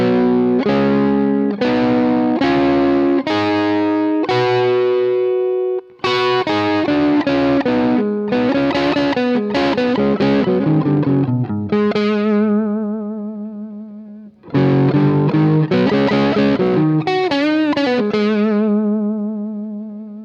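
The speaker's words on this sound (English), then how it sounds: "it obviously beefs up the sound when you play everything as double stops" Double stops on a distorted electric guitar with chorus and effects, walking through the pentatonic scale in quick paired notes with short pauses between phrases, loud and sustained.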